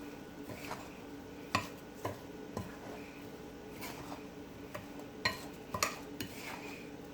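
Sweet potato pudding batter being mixed with flour by hand in a Jamaican kitchen, giving soft scraping and a few sharp clinks of a bowl or utensil at irregular intervals, close and fairly quiet.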